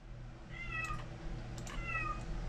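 An upset cat meows twice, each a drawn-out, wavering cry, over a steady low hum of indoor background noise.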